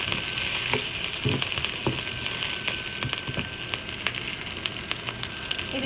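Green chilli and garlic fry in a pan with a steady, close sizzle and occasional crackles and stirring taps, continuous and even throughout.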